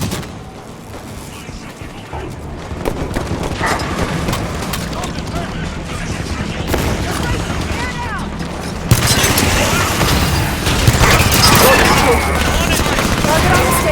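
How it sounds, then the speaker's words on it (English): Automatic turrets in the Halo 5: Guardians video game fire in a loud, sustained burst of rapid gunfire with booming impacts, growing denser and harsher partway through, mixed with battle noise and overlapping voices. "Turrets on and firing."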